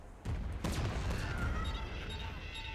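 Enemy gunfire in the first-person shooter game Insane Insects comes as a dense burst of overlapping shots and booms, loud and sustained, with a sharp crack early on and fading rumble afterward.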